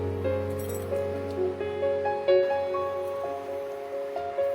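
A metal spoon clinks lightly against a pot while two spoonfuls of sugar go into chhanar polao, with a few small scattered taps over a steady low hum and no talk.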